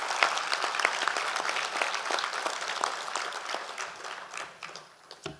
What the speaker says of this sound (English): So would you join me in just giving these fellows a round of applause?